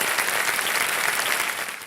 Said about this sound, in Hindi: एक बार जोरदार तालियां हो जाए अर्चना जी के लिए।